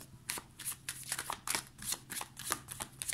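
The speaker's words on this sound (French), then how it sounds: "Alors, on va tirer 3 cartes" Tarot cards shuffled and drawn by hand for a reading, a run of quick riffling and flicking bursts close up, steady and crisp over a faint low hum, with no voice.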